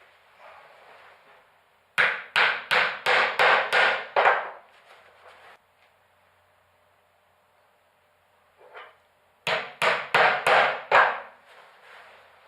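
Two bursts of sharp hammer blows, about seven quick strikes each with a pause between, as clout nails fix a hinge onto a wooden box roof, close and loud.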